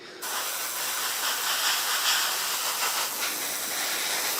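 A paint-clogged airbrush sputters and hisses, a harsh continuous spray of air starting abruptly and holding steady with slight spitting fluctuations, close and loud.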